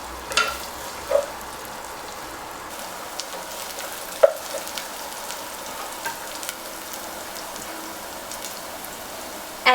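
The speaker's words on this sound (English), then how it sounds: "Just let it caramelize a little." Onions caramelizing in a pan for daal make a soft, even crackle like light rain, with a few distinct spoon taps and scrapes standing out.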